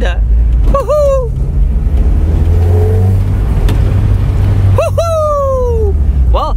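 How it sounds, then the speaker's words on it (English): A Honda car engine rumbles low and steady at close range while being parked, with loud whooping vocal cries rising over it near the start and again toward the end. "I'm parking the Honda."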